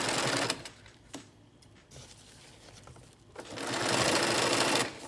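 A sewing machine stitches a zipper onto the front of a pillow close to the teeth, running in two loud bursts with a quieter pause between them.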